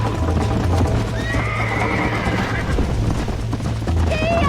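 Horses gallop hard and whinny in a Red Dead Redemption ranch race, steady hoofbeats pounding under bright neighs that rise now and then, with game action sounds mixed in.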